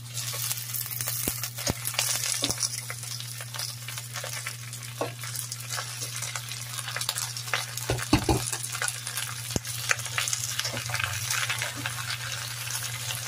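Shrimp stir-fried in a hot pan for a shrimp with oyster sauce dish: a steady loud sizzle fills the whole stretch, broken by frequent scraping and clacking spatula strokes against the pan.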